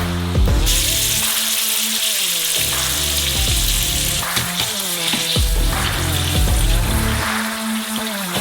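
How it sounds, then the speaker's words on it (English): French fries frying in a deep fryer, a loud, dense, continuous bubbling sizzle of hot oil with crackling bursts, close and steady for the whole stretch. "We warm up the fryer and finally fry our VIP French fries."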